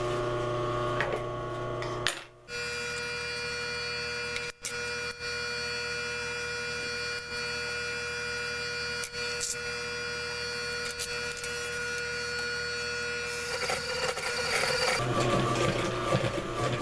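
Sewing machine stitching through thick saw sheath material, a continuous mechanical whirr and hum running close and steady for the whole stretch, with a brief stop near the start and a strained, heavier tone toward the end.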